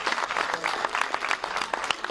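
A theatre audience applauds an actress after a show, a dense, steady wash of clapping hands filling the room for a couple of seconds.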